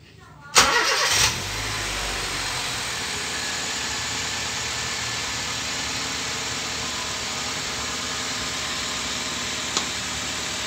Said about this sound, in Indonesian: Dan kita bunyikan mesinnya.